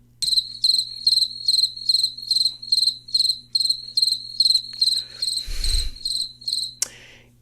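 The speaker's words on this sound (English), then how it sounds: "It was crickets." Crickets chirp in a rapid, regular series of bright pulsing trills, loud and close, with a soft low hum underneath and a brief muffled thump near the end.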